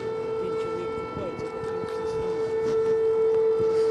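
A steady, unbroken air raid siren tone drones through the whole stretch in Poltava, Ukraine, loud and constant, over a low rumble of background noise.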